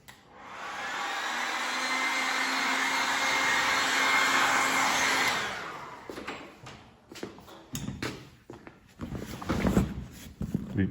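Hot air dryer blowing steadily to activate glue on seam tape for a boat hull repair. A loud, even whoosh runs for about five seconds, then stops and gives way to handling clatter and rustling.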